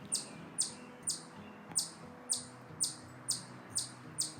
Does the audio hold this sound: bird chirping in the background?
yes